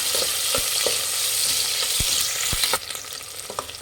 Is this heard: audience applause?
no